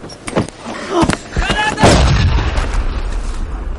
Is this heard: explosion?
yes